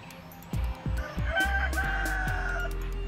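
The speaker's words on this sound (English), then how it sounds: "That rooster keeps yelling at everybody, huh?" A rooster crows loudly and close by, one drawn-out call over a steady low background rumble, preceded by several short clucks or knocks.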